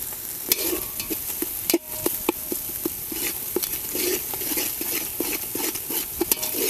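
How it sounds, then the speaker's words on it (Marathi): Onion garlic chutney roasts in hot oil with onion and tomato, giving a steady sizzle broken by repeated scrapes and clinks of a spoon stirring against the pan. "तेलात चांगली भाजून घ्यायची."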